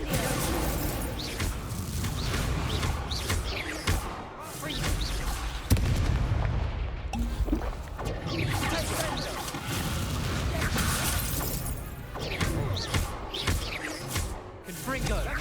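Confringo fire spells explode in the Hogwarts Legacy game on PS5, a dense run of loud booming blasts and whooshing bursts that packs nearly the whole stretch, with a player's voice talking over the action.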